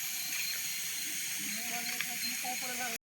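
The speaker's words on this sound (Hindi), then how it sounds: "देखो एपटे पियाज भजा भजी चली" Onions fry in a pan as a home cook prepares chicken, giving a steady close hiss with light crackling that stops abruptly at the end.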